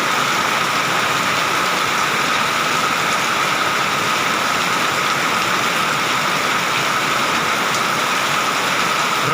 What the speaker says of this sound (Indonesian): Deras sekali hujannya.